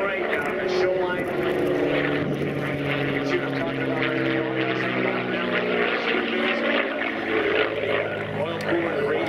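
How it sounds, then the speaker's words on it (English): A historic P-51 Mustang propeller fighter makes a low pass along an airshow line. Its engine gives a loud, steady droning roar for the whole stretch, with an announcer's voice running over it. "Beautiful sights and sounds of the historic P-51 Mustang."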